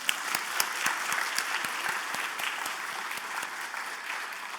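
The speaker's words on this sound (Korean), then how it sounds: "남자분들은 한번 박수 한번 해드릴까요?" Church congregation at a Friday night service applauding the men's choir, a sustained crowd of many hands clapping with some individual claps standing out in a loose rhythm, steady and fairly loud.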